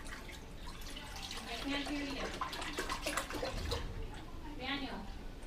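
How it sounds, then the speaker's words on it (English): Milk is poured into a pot while making yogurt, a steady liquid pouring and splashing sound running beneath people talking nearby. "now what you first do is pour the milk"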